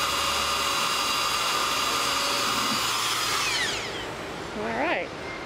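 Power drill boring a hole through a polyethylene RV water tank, a steady whirring grind that winds down partway through, followed by a few faint rising and falling tones as it spins down.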